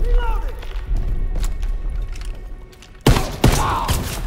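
Shotgun blasts ring out in the World War II shooter Call of Duty WW2: two heavy booming shots close together near the end, after quieter battle noise, with someone talking over the game sound.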